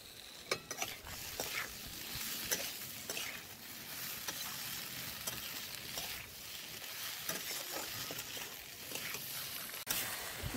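Fried bitter gourd and eggplant are stirred into shukto in a pan, giving a steady close sizzle with scraping and clattering spoon strokes throughout and no voices.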